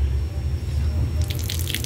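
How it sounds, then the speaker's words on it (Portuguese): Water runs steadily from a public drinking spout in a park in Vinhedo, São Paulo, a continuous splashing flow with a low outdoor rumble beneath and brighter spattering near the end. "Aqui temos bicas aqui para beber água, vê só"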